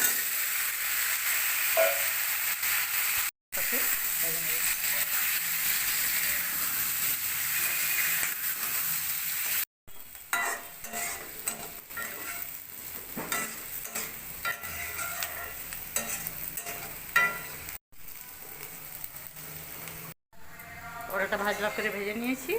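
Boiled elephant foot yam, cooked with salt and turmeric, fries in a pan in a village kitchen with a steady hiss and sizzle and some stirring, broken by brief cuts, while a voice talks over it at times.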